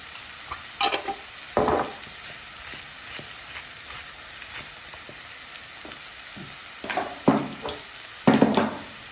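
Kısır ingredients with red pepper flakes, salt and black pepper fry in a pan, a steady low sizzle broken by several loud scraping stirs in bursts, close by.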